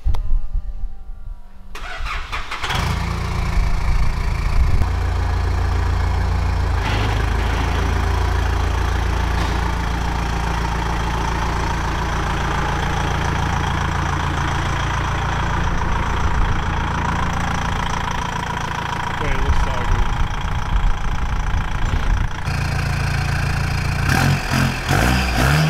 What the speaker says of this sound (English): One thing we've noticed is that the motor is really knocky at the moment.